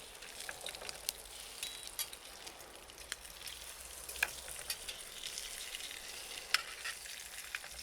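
Guanciale cured pork frying in a lightly oiled pan with a splash of vinegar, a steady dense sizzle with scattered sharp pops and crackles, close and alone with no voices.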